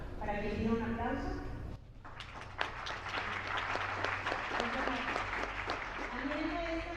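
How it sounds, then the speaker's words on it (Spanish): Audience applause for a speaker at an academic panel on digital participation starts after a short spoken introduction, then continues as steady moderate clapping while a voice talks over its final part. "para que le diera un aplauso"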